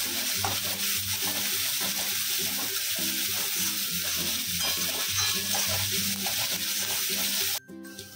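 Three medium onions frying in a pan while being stirred until brown for chicken tikka masala, a steady close sizzle with a quick stop near the end.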